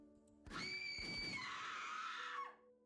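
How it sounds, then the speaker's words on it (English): A sudden high-pitched scream rings out in a visual novel video game, rising sharply, holding for about two seconds, then falling away over a quiet musical drone. "that scream kind of scared me. Jump scared me."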